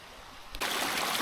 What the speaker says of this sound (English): I'm standing in the Glady Creek right now